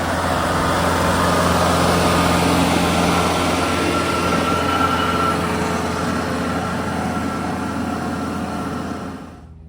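A verti drainer machine working a golf green gives a steady, loud mechanical roar and rattle throughout, fading away over the last second.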